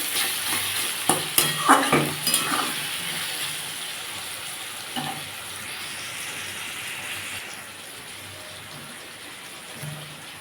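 Vegetables frying alongside a hilsa fish head for Malabar spinach chorchori, starting with a burst of spatula scrapes and stirs, then settling into a continuous hissing sizzle that gradually softens, with no voices.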